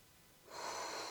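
A single breath drawn in through the nose during a hamstring stretching routine, a soft, close, airy intake that starts partway through and holds steady, faint and alone.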